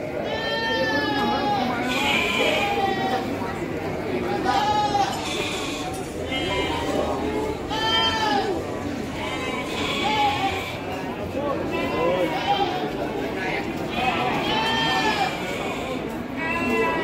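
Garut sheep bleating at the Andir livestock market, repeated wavering bleats from several animals near and farther off, over a busy background of people talking.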